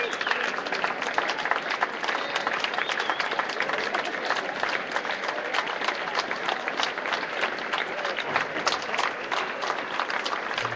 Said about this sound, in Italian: L'applauso è un po' moscio